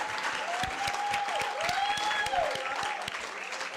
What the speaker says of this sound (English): let us clap hands for him as he comes